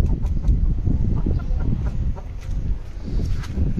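Hens on a home poultry setup, one brooding hen that has been breaking her eggs, cluck and chatter in a dense, continuous run of short calls at close range, with no talk over them.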